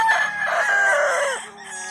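Chickens and roosters at a gamefowl farm in Canlaon, Negros Oriental, with a rooster crowing loudly and close in one long drawn-out call, other fowl clucking around it.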